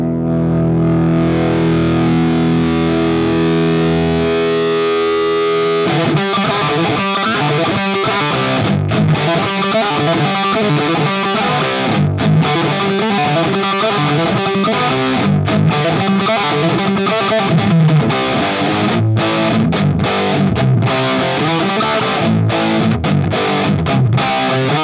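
A heavily distorted electric guitar through an Orange OR-50 amplifier holds a sustained chord, then launches into a continuous, dense riff played loud and unbroken.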